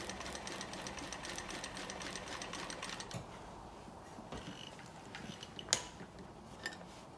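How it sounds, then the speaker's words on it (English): Sewing machine stitching a dart in cloth, a quiet rapid mechanical chatter for about three seconds before it stops, followed by faint light clicks and handling noises. "let the machine and the needle just run right off the cloth, gradually"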